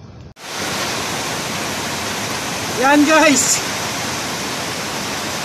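Heavy rain pours down in bright sun during a motorbike lap race in Burgos, a dense, steady hiss that starts abruptly and stays loud throughout, with someone briefly speaking over it.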